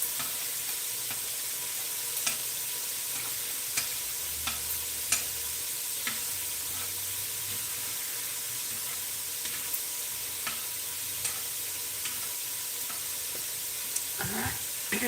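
Garlic toasting in a pan for pozole rojo makes a steady, quiet sizzle with faint stirring taps and scrapes. It runs alone and evenly throughout.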